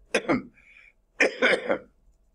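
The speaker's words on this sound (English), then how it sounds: "it's just coughing way too much" A person coughs twice in close succession, a short burst followed after a pause by a longer run of three harsh coughs, close and loud in a quiet room.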